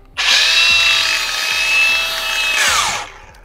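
A power tool fitted with a DISTAR disc whines loudly and close as it grinds for about three seconds, holding a steady high pitch before spinning down.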